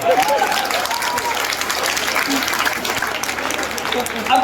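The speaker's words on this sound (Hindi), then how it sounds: "जो आप ताली बजाई" An audience at a Hindi comic poetry recital breaks into sustained applause, a thick, even wash of clapping that runs the full length with crowd noise and voices beneath it.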